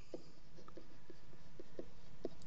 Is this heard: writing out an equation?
yes